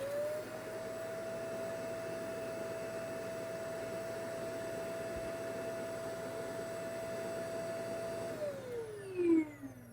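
A Dreame D20 Air Plus robot vacuum dock auto-emptying its dustbin: a steady loud mechanical whir drones for several seconds with a rising suction tone, then winds down near the end.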